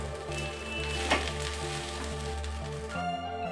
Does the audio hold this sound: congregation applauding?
no